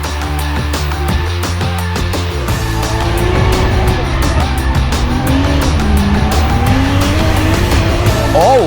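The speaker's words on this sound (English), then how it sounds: "This is my drift car." Toyota Soarer drift car with a 1JZ engine drifting, loud sustained engine roar with rising and falling revs and tire squeal, close and continuous throughout.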